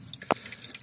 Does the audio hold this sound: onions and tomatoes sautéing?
no